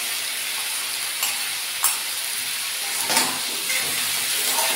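Pumpkin curry sizzles and hisses steadily in a pan, with a few soft scraping stirs breaking through the constant frying noise, close up and with no talking.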